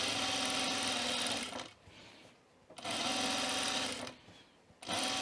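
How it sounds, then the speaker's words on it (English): A domestic sewing machine top-stitches the back yoke of a button-up shirt, running fast in close, steady bursts separated by two short pauses. "We can top stitch this in piece now."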